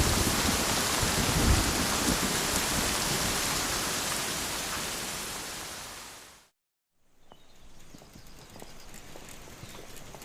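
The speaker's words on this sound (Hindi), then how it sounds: "तूफानी बारिश आमतौर पर ज्यादा देर तक नहीं रहती।" Heavy storm rain pours down in a dense, loud wash that cuts off abruptly partway through, then returns as a quieter, sparser patter.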